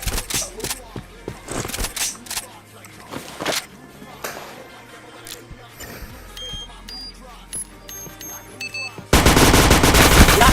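Rapid bursts of gunfire crackle in a first-person shooter game, with scattered single shots and volleys, then a loud sustained barrage at the end; players talk over the action.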